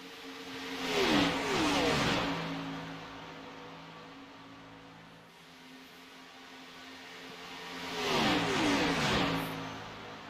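Race cars accelerate on an Eastern Central Racing Association circuit, two engine passes rising and fading with rising whining revs, the first near the start and another toward the end, a quieter lull between, no talk.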